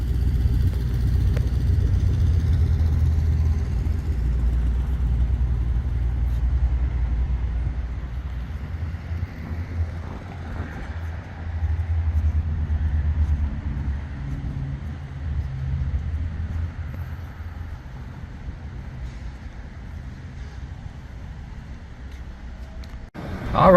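A 1986 Mercedes-Benz 560 SL runs steadily throughout with a low, continuous engine rumble, plus some wind and road-like noise.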